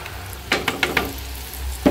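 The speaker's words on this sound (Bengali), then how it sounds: "ইচা মাছটা তেলে ভালো করে ভেজে নিচ্ছি একটু।" Small shrimp frying in hot oil in a home kitchen, a soft steady sizzle broken by a few quick, sharp stirring scrapes in the middle and a clatter at the end.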